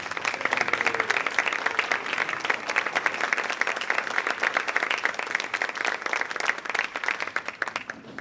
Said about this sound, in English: Would the members of the Alumni Board kindly rise and also receive applause?